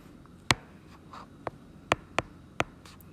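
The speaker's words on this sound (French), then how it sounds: "je vais l'écrire en rose" Pen writing in pink ink on paper, heard as a handful of sharp, isolated taps and scratches spaced irregularly, close and fairly quiet, with no voices.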